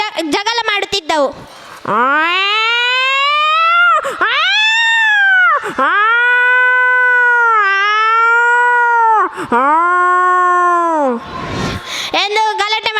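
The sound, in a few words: child imitating two cats fighting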